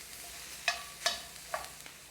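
Bell peppers cooking in a skillet over low to medium heat, a faint soft sizzle punctuated by three sharp clinks of a utensil against the pan.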